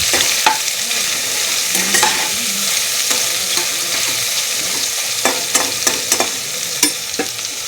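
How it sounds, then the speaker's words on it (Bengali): Soaked soybeans fry in hot oil in a pan for a Bengali-style chop, a steady loud sizzle with scattered sharp pops and stirring scrapes throughout, with no one talking. "সোয়াবিনটা ভেজে নিয়েছিলাম"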